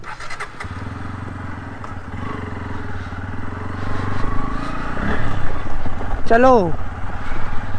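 A Bajaj Pulsar N160 motorcycle idles and then revs up as it sets off toward an off-road track in the Aravali hills, its engine growing louder, while someone talks briefly over it.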